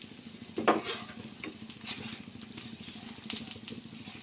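Egg chapathi fries in a pan under pepper powder, the spread egg mixture giving a soft, continuous sizzle with crackles and a few scraping turns of a spatula. It is fairly quiet and there is no speech.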